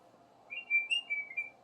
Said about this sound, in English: Are you a bird?